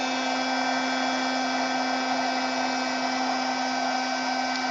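A heat embossing tool with two speeds, covered for safety, blows a steady, loud whirring hum with a constant tonal whine, close and unbroken throughout, with no talking.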